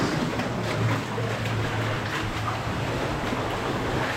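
Continuous rushing water flowing through a lead mine, a dense hiss with a low rumble underneath, steady and fairly loud throughout with no speech.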